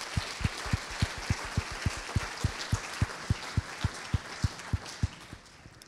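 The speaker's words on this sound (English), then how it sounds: "we'd love to give you a round of applause for the rest of you as well" Audience at a charity celebration event clapping steadily for donors and sponsors, a dense, even round of applause from a roomful of people that fades slightly at the end.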